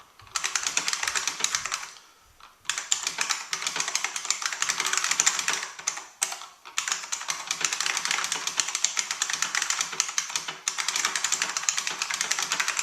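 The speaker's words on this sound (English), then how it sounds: "I'm just going to do a little bit more typing just to give you a feel for the sound." Continuous clacky keystrokes on a Unicomp SpaceSaver M keyboard, a steady fast stream of clicking presses with a short pause around two seconds and a brief dip near six seconds, close and alone.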